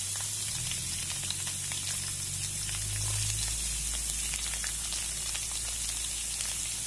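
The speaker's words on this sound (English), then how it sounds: "I will just let this garlic fry a bit." Garlic sizzles steadily in hot oil in a pan for a Mumbai-style potato sabzi, a constant close crackling hiss with a low hum underneath and no talking.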